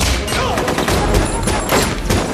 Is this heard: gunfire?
yes